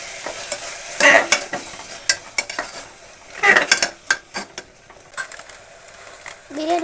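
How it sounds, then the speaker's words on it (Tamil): Thick curd is stirred into biryani in a metal pot, producing irregular scraping and clinking strokes of a spoon against the pot, close and fairly loud, over a soft sizzle. "கெட்டியான தயிர் நல்லா கிண்டி விட்டுக்கலாம்."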